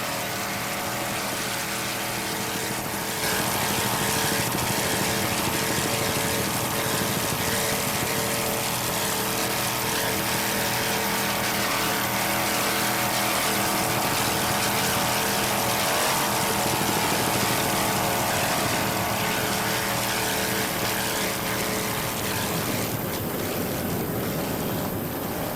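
Powerful boat engines roar continuously at high speed, mixed with rushing water, spray and heavy wind buffeting the microphone.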